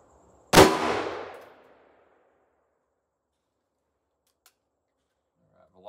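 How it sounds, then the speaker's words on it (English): A single loud, close gunshot from a Taurus Tracker M44 .44 Magnum revolver firing a Hornady 240 grain XTP bullet, with a sharp crack and a decaying ring-out followed by near silence. "next up is the Taurus tracker, the M44 model with the 240 grain Hornady XTP bullet."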